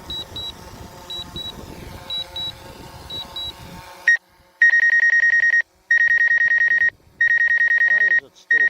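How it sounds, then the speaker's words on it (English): A DJI Mavic 2 Zoom drone controller beeps a proximity sensor warning, first as faint paired beeps under talk and wind, then as loud, sustained repeated tones with brief gaps. "Why is it still beeping at me like crazy?"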